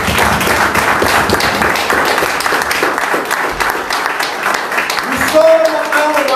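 A church congregation applauds and cheers the Lord, a steady wash of clapping and crowd voices filling the room, with a voice rising briefly near the end.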